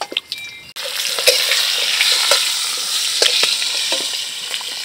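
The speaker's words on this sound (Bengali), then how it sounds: "মাছ ভাজা তেল দিয়ে আলুটা ভেজে নেব।" Potatoes go into hot leftover oil from frying fish and sizzle loudly and continuously, with a short quiet moment before the crackling frying noise takes over and small pops and stirring clicks come through it.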